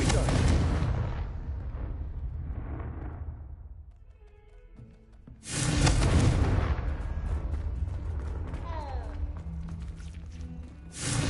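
A Confringo fire spell exploding in Hogwarts Legacy, a loud booming blast that rumbles and fades over several seconds, then a second heavy burst with crackling debris and faint talk beneath.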